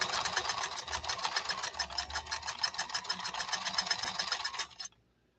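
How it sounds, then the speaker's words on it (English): A serviced 1970s Japanese Kenmore sewing machine stitches a wide zigzag on nylon-based fabric, a fast, even, smooth mechanical whir running steadily up close, then stopping abruptly near the end. "this Kenmore, after it's been serviced in the workshop, is such a smooth, a silky smooth running machine"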